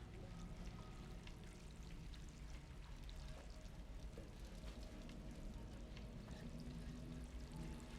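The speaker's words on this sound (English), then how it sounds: "There's running water here somewhere." Running water somewhere in the video game Stray, a steady, quiet pouring and trickling wash that continues evenly throughout, with no voices.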